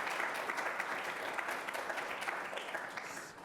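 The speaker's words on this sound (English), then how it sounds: "Please give an applause to Zurich Foundation." An audience at a climate change lecture applauds the Zurich Foundation, a steady, moderately loud wash of clapping hands that carries evenly to the end without talk.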